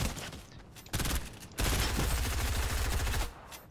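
Rapid bursts of automatic gunfire in Fortnite, a short volley near the start and then a longer, louder continuous stream of shots that cuts off near the end.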